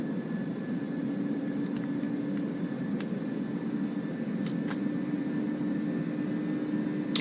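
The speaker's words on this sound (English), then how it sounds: "now we are cruising at flight level 340" Steady broadband cockpit drone of a Boeing 737 NG cruising at flight level 340, constant engine and airflow hum with a faint tonal whine and a few small clicks, no speech.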